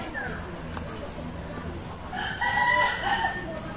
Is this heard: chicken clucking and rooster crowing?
yes